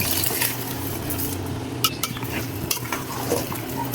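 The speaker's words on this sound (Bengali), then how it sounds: "এখন আমি এর ভিতরে চালটা দিয়ে দিব।" A spoon stirs raw rice into browned, cooked-down meat in a pot while making biryani, producing steady scraping and clinking against the metal under a soft sizzle, with a few sharper knocks.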